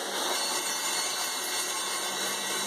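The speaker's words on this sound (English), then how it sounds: "Now I'm just going through the tile and hitting the wood." Power drill boring through ceramic shower tile into the wooden stud behind it while mounting a grab bar, a steady continuous whine with a grinding, abrasive edge held at a constant level throughout, close to the microphone.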